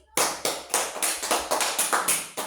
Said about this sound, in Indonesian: Kita tepuk tangan untuk Sela dulu.